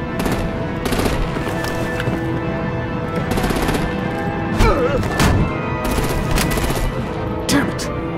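Sustained automatic gunfire from Batman: The Enemy Within crackles in loud rapid bursts throughout, with game explosions and shouted voices mixed in.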